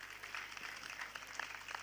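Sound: audience applause at closing ceremony

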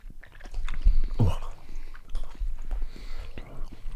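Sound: chewing hot gummy bears

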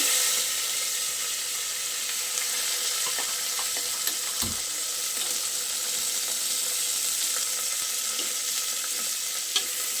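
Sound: onions and curry leaves frying in a pan

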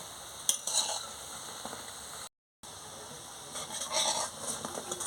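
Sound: soybean gram-flour fritters frying in oil

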